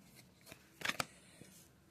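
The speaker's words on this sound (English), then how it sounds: "Alright, let me shuffle these." A deck of tarot cards is shuffled up close: a few short, crisp riffling bursts, quiet and with no talking.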